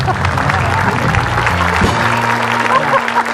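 A studio audience claps for a talk-show guest, a steady spread of applause with voices and a low hum mixed underneath.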